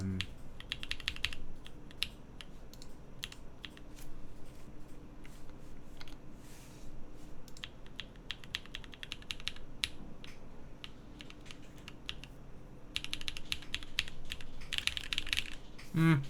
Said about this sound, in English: I guess I'll just have to type on it without actually typing on it